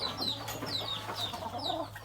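Chickens cluck softly at a country garden farm, several short calls scattered over a low steady background hum.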